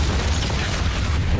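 Explosion in a French heist film scene, a dense sustained boom with heavy low rumble filling the whole short moment, loud and close with no voices.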